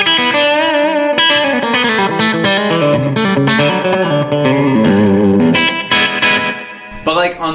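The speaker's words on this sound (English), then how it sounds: "It's kind of that slapback tone." An electric guitar played through a slapback delay pedal on a small pedalboard, a run of bright, distorted picked notes each followed by a quick, tight echo, loud and continuous, ending with a brief bend.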